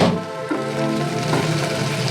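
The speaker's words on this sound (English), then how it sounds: "And now I will add the fried potato over here" Fried potatoes go into a hot pan of oil for a quick Bengali cauliflower curry, giving a loud, steady close-up sizzle that runs unbroken from start to finish.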